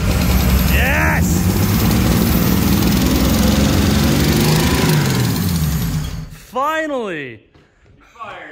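A burnt, abandoned Chevrolet Nova engine fires and runs, making a loud, steady rough drone that cuts out near the end, with excited voices shouting over it and right after it stops.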